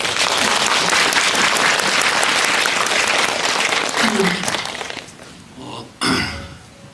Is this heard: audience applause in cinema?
yes